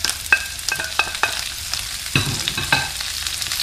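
Vegetables for chicken chow mein stir-frying in a hot pan, a steady close sizzle broken by several sharp scraping and tossing knocks of the utensil against the pan.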